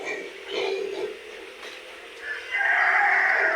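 A rooster crows nearby, with a long strained call at the end, alongside softer clucking from native hens.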